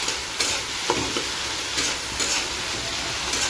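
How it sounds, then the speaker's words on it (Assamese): Fish sizzles in hot oil in a pan with a steady, close frying hiss and a few soft stirring bumps, with no talk over it. "মাছখিনি দি দিলোঁ। ভালকৈ ভাজি লৈছোঁ।"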